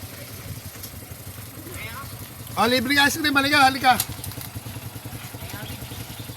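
Several motorcycles idle nearby with a low, steady putter, while people talk over them and one voice rises loudly in the middle.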